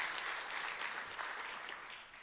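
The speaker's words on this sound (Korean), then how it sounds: "자유해방 주신 하나님께 박수 한번 합시다." A church congregation applauds, a soft, fairly distant wash of many hands clapping that holds steady before tapering off slightly at the end.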